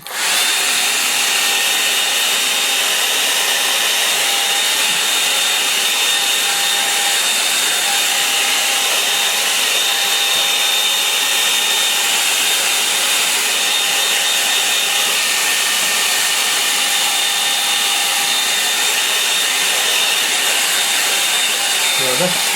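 A hair dryer blows steadily and loudly over watercolour paper for the whole stretch, a constant close whooshing roar with no breaks.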